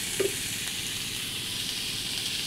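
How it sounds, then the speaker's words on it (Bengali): Potatoes with kabuli chickpeas fry in a pan, giving a steady, fairly quiet sizzle that runs unbroken throughout, with a faint clink near the start. "এবার একটু কাবলি ছোলাটা একটু ওর সঙ্গে হালকা করে ভেজে নেবো"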